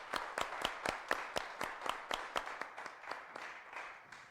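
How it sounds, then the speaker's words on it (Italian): At a parish carnival festival, an audience claps in an even, rhythmic beat, about four claps a second, quiet and somewhat distant, slowly fading toward the end with no voices. "Molto piacere, un applauso."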